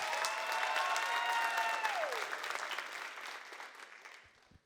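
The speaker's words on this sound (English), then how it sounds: "Please give her a round of applause." An audience at a student leadership conference breaks into loud, dense applause that swells briefly, then gradually thins and fades away near the end.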